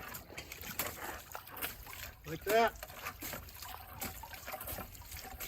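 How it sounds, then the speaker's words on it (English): Water splashing through a gold-prospecting sluice box during a clean out, a short burst of slosh rising mid-clip over steady running water, with someone talking throughout. "Give her a little splash."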